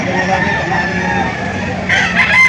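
A White Kelso gamecock rooster crows amid the constant clucking and crowing of many fowl at a poultry auction market in Lipa, a dense, noisy farmyard chorus with voices faintly in the background.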